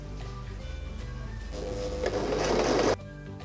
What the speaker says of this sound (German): Ich verwende hier nochmal die Overlock.